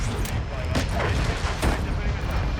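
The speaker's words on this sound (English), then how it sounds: "that airstrike could have landed on me" Airstrike explosions in Call of Duty: Modern Warfare 3 multiplayer, a continuous heavy rumble of booming blasts rolling one after another at close range, loud and sustained with no pause.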